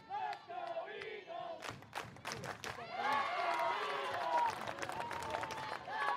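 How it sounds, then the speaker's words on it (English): Parents in the stands at an NCAA college softball regional game between Framingham State and Husson start up a rowdy chant, voices rising together into sustained crowd noise with shouts and some clapping, fairly close and loud. "the parents starting up a little bit of chant down there"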